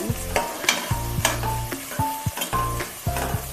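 Onions and green chillies fry in a pan, a steady sizzle broken by repeated metallic clanks and scrapes of a spoon stirring, close and fairly loud with no talk.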